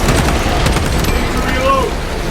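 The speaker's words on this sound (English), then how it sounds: "Throwing melter bomb." A melter bomb is thrown and explodes in Warhammer 40,000: Space Marine 2, a loud, dense blast with crackling debris and a brief tonal whine near the end, amid game sounds and speech.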